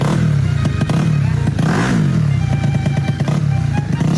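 A Yamaha Mio motorcycle engine revs loudly up close in a repair shop, sustained droning with rising and falling pitch and a rattling clatter over it.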